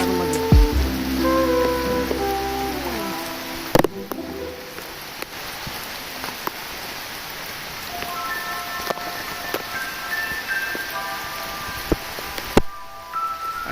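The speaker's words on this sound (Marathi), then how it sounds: "आणि पावसाने पण जोर वाढवलेला आहे." Heavy rain pours steadily near Bhimashankar, a dense, even hiss that continues for the whole stretch, with a few brief tonal sounds and sharp knocks near the start.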